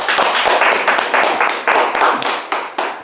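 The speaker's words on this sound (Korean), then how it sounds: "박수!" A small campaign-office group claps together in a brisk, steady burst of hand claps, close and loud, filling the room for a few seconds with no voices over it.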